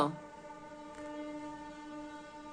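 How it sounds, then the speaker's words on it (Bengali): A train horn sounds in a steady sustained tone, fairly faint and distant, holding for a couple of seconds without clear talking. "এই দেখো ট্রেন যাচ্ছে ট্রেন যাচ্ছে শুনতে পাচ্ছ ট্রেন যাচ্ছে"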